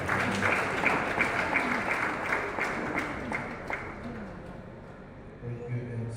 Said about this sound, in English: If you want, you can clap for him.